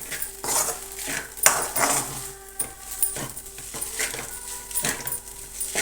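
A spoon scrapes and clinks against a metal pot while a spiced dish with masala packets is stirred, giving irregular close metallic knocks and rattles with short pauses between strokes.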